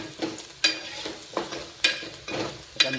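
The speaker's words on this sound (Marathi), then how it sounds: "आता मिश्रण व्यवस्थित मिक्स करून घ्यायचं आहे." Onion and spice mixture stirred in a pan while cooking, with a spoon scraping in rhythmic strokes about once a second over a steady low sizzle, close up and alone.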